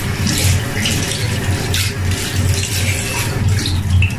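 Hot water runs steadily from a tap, a continuous splashing hiss with a low drumming where the stream strikes the basin, close and fairly loud with no voices.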